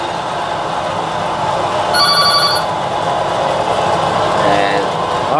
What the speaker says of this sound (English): And the phone's ringing too.